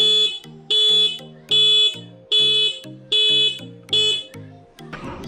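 A car alarm wired through the vehicle's stock horn blares in loud, close, repeating bursts, about six evenly spaced honking pulses in a steady alarm rhythm, ending in a brief rustle.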